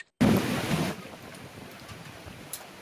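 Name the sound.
sea waves crashing on shore at Kuakata, Bay of Bengal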